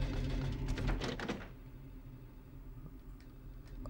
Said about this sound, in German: Ich habe gerade irgendwo ein Türenklopfen gehört und irgendein Gemurmel